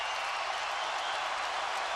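Steady roar of a college basketball crowd in Lawrence, Kansas, at an Ohio State versus Kansas game during a timeout, a dense continuous wash of cheering and clapping with no breaks.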